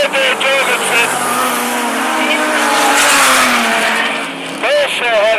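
Sprint sedan race cars racing at Mac's Speedway, engines droning and rising in pitch as they circle the track, with cars sweeping past near the end, all under an announcer's commentary.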